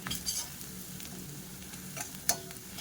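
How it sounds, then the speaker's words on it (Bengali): Turmeric frying with onion in a pan, a quiet, steady sizzle with soft stirring scrapes close by and one sharp utensil clink near the end. "হলুদটাকে আগে ভালো করে পেঁয়াজের সঙ্গে একটু ভেজে নেবো"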